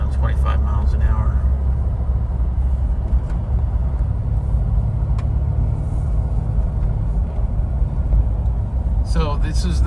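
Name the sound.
2006 Jeep Wrangler Unlimited 6-speed manual driving on side roads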